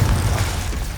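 A Confringo blasting spell erupts in Hogwarts Legacy during a fight with trolls, a loud, close burst of deep booming rumble with a rough, noisy crackle that fades over a second.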